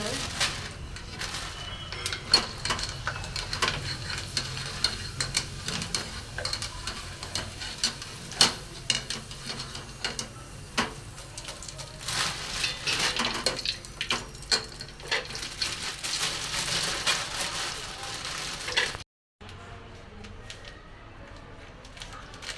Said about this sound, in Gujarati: હવે આપણે તળી લઈએ ભૂંગળાને તેલ ગરમ થઈ ગયું